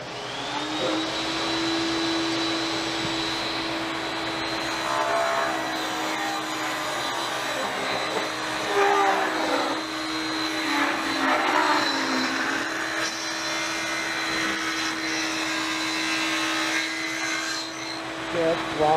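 Saw ripping thin 3/16 inch wide strips of walnut wood for a wooden fly fishing net, a loud continuous whining drone with a steady pitch throughout and occasional cutting surges.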